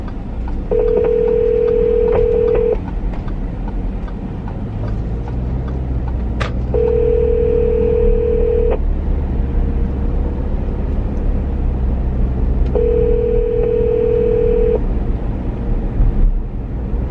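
Phone call placed from inside a car: three long, evenly spaced ringback tones repeat over a low steady cabin rumble, with a brief beep between rings and no voices.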